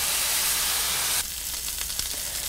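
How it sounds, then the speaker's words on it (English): Sirloin steak hits hot olive oil in a pan, a loud broad sizzle that drops sharply after about a second, then settles into steady spitting and crackling frying. "So here I have my pan that has some olive oil down on it. It's nice and hot, so we're gonna sear our sirloin steak."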